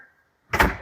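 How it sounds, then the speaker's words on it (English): A door opens with a sudden loud thunk and sliding rumble after near silence, during place training with a Goldendoodle on a leash indoors. "You can start working on opening that door a little bit more."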